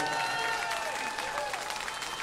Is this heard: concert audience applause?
yes